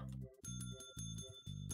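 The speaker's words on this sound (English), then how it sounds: "Stop placing bells and stop abusing the bells" Bells placed and rung in Minecraft, a bright ringing game bell struck several times in quick succession, each strike sustaining briefly, fairly faint and alone.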